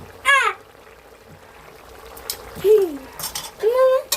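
A metal utensil stirs food in a pan, with a few close clinks and scrapes spread across a few seconds, alongside brief vocal sounds.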